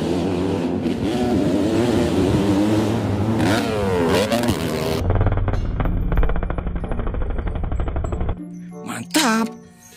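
Two ATV motorbikes rev hard with rising whines, followed by a stretch of rapid rattling engine noise and a few sharp bursts at the close.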